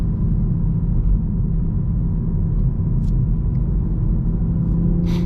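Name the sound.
Toyota Supra engine with turbo in second gear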